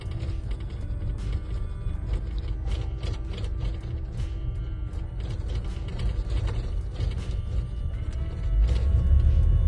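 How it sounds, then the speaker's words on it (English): A Nissan van's engine idling roughly while stopped, with a suspect transmission mount: a steady low rumble laced with irregular ticking and rattling clicks, swelling louder near the end, no voices. "Customer states their Nissan van has a rough idle whenever they're stopped."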